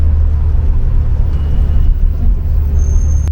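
Loud, constant low engine drone and road roar from inside a BMW E46 track car at VIR, with the oil light on, steady and close with no break.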